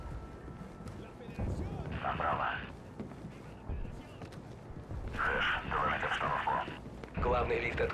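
Bursts of gunfire in the Call of Duty: Ghosts video game, coming in two or three loud volleys with a voice talking over and between them.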